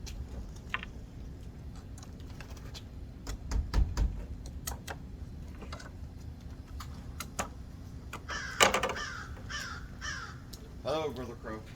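A crow cawing outdoors while window screens are being fitted during a bus conversion build. A few harsh caws come toward the end, amid scattered tapping and clicking from the work.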